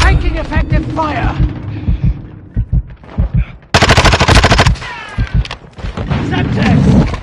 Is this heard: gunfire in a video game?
yes